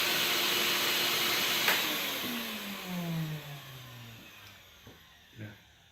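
A workshop dust extraction system for woodworking runs with a loud steady rush, then winds down, its whine dropping in pitch as it spins to a stop, followed by a few faint knocks.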